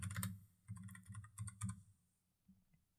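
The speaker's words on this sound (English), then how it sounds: "I'm going to type in Go Compare." Typing on a computer keyboard: several quick bursts of close key clicks, then a pause and a couple of isolated taps, quiet overall.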